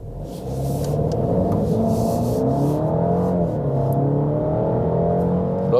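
A 2023 Alfa Romeo Giulia pulls hard through a gentle left bend on a slightly damp road, its engine note rising in a steady, full rumble heard from inside the car, with no one speaking.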